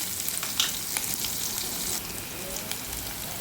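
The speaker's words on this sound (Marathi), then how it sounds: "कांदा व्यवस्थित लालसर होईपर्यंत आपल्याला परतायचं आहे." Onions sautéing in a pan while being browned for masala rice, a steady close sizzle broken by small stirring clicks and pops.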